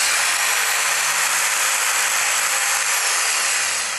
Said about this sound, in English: we're going to take our trusty little jigsaw and cut this channel out